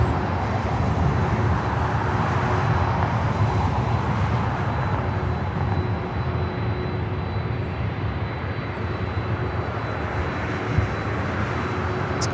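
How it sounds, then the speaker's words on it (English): A Delta Airlines A321neo arriving at LAX from Atlanta produces a steady, broad jet roar that holds for the whole stretch, with distant traffic-like rumble underneath. "this flight coming in from Atlanta, Delta Airlines Flight 673. It's an A321neo"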